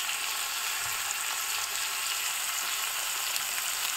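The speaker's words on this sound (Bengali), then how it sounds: "পেঁয়াজটাকে আমি আর আলাদা করে ভাজবো না, শিমের সঙ্গেই ভাজবো।" Beans and potatoes frying together with onion in a pan, a dense, steady hissing sizzle that stays even and close throughout with faint stirring, no voices.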